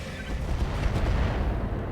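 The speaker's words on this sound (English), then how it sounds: "So I didn't expect a strafing run" A strafing run in the RogueTech video game brings a dense, rumbling barrage of rapid gunfire and booming explosions, loud and continuous for the whole short stretch.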